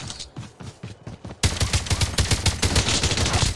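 Rapid automatic gunfire in the Call of Duty Mobile video game, a steady stream of shots that grows suddenly louder and denser partway through and stays continuous and close to the end.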